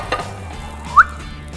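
Omelette with melting Andean cheese frying in a pan, a steady soft sizzle running throughout with one brief brighter pop near the middle.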